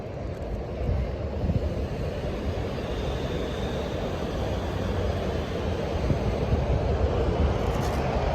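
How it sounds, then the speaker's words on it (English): A train rumbling past at a station stop in Shinagawa, Japan, out of sight on the far side: a steady, heavy low roar and rolling rattle sustained throughout, fairly loud with no talk. "Got a train coming by."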